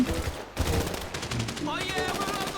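Rapid automatic gunfire cuts down zombies in GTA V, a loud, close stream of evenly spaced shots broken by a brief pause, with game sounds and a faint voice in the background.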